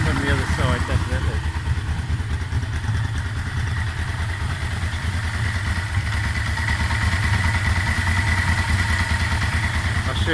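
A warm Yamaha Vmax motorcycle engine idles with a steady mechanical clatter and rhythmic pulsing, heard up close under a voice.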